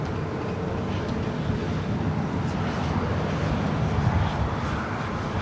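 At LAX, an airplane departing on the runway produces a broad, steady jet rumble heard from a moderate distance, with a constant roar throughout and no talking.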